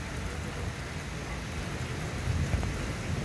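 Light rain falls steadily on a street, a broad even hiss with low rumble underneath and no talk, swelling slightly near the end.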